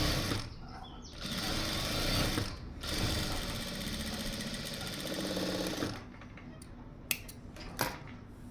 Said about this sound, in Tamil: அதனால் நான் இன்னொரு ஸ்டிச் கூட போட்டுக்கிறேன்.